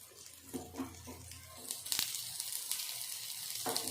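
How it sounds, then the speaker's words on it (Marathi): Alu vadi, colocasia leaf rolls, frying in hot oil give off a steady, fairly quiet sizzle with crackling pops that swells slightly midway, with no speech over it. "हे छान फ्राय करून घेऊया आता आता याला पलटी करून घेते मी"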